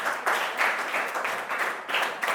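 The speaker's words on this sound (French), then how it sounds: "Applaudissez pour vous, applaudissez pour vous." A class of French-language learners applauds, a steady crackle of clapping hands filling the short stretch with no voices over it.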